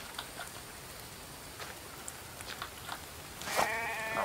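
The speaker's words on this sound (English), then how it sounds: "Sheep." A sheep bleats near the end in a survival video game, a short wavering cry after quiet ticking and small effects, with no talk.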